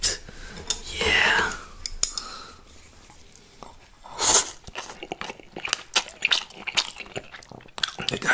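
Salted whole chicken and udon with kimchi being eaten up close, with crisp crunches, bites and wet chewing that come in irregular bursts, plus a brief stretch of soft whispering near the start.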